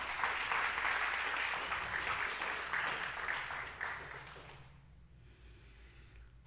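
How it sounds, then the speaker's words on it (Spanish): Church congregation claps during a Spanish-language Sunday service, a sustained wash of applause that fades out and leaves near silence for the last couple of seconds. "Denle un aplauso al Señor."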